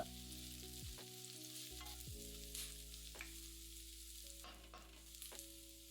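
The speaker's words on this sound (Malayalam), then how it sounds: "പിന്നെ ഒരു മീഡിയം സവാള സ്ലൈസായിട്ട് അരിഞ്ഞതിട്ട് ഏതാനും സെക്കൻഡ് വഴറ്റുക." Sliced medium onion sautéing with garlic in a pan, a steady sizzle with a few scraping stirs of a spatula, close and fairly loud over a continuous background hum, no voices.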